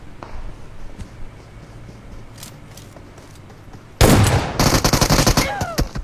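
Gunfire during a battle royale video game match: quiet, muffled rounds at first, then a loud, close burst of rapid automatic fire with sharp repeated shots over the last two seconds.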